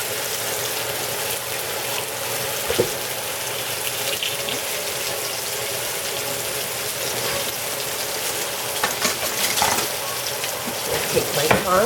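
Lamb chops coated in flour frying in a pan, a steady close sizzle and crackle with a few sharper pops and some clatter, running throughout with a voice briefly in the background.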